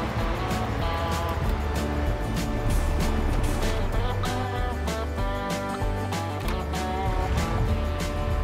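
A tractor in Farming Simulator 22 works at collecting bales, a steady droning engine hum with harmonic tones and rhythmic clanking and thumping across the whole stretch, close and continuous, no talk.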